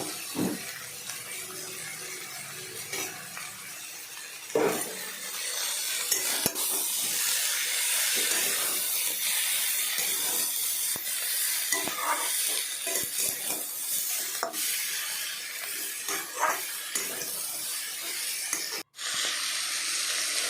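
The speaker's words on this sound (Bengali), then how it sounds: "লাল শাকের ডাঁটা দিয়ে তারপর ভাজবেন" Red amaranth stems frying in a pan for a Bengali chorchori with hilsa fish head, giving a steady close hiss and sizzle that runs almost unbroken for about twenty seconds, with occasional soft clicks and a brief dropout near the end.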